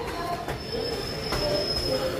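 A train passing through a railway station, its wheels giving a sustained high metallic squeal over a steady rumble of rolling railcars, fairly close and continuous.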